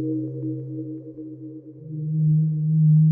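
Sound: synthesized sawtooth waveform tone

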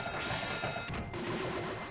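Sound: pinball flippers moving in Fire Ball video game, Panasonic 3DO

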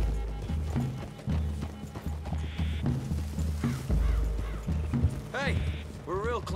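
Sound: horse hooves, from a video game

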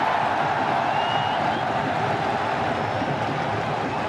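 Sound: cricket crowd cheering after a boundary four

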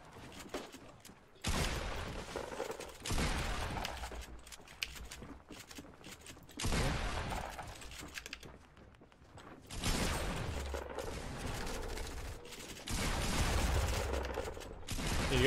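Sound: shotgun gunfire in the video game Fortnite

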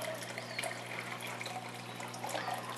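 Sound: decanting colloidal silver liquid into a larger container

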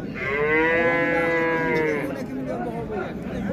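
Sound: Angus cattle mooing at a livestock market

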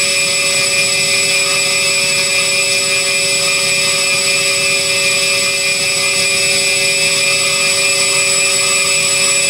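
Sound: electric motors spinning without propellers during battery test

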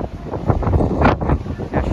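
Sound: strong wind on microphone at cruise port

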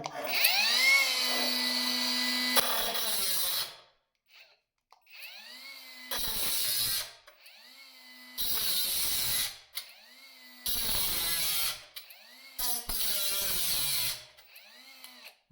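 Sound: cordless angle grinder cutting metal profile

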